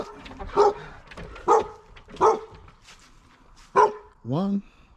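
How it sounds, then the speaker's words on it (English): Dogs bark in several sharp, close bursts spaced about a second apart, ending with a rising whine, while a person talks in the background. "Had to say hi to the doggies."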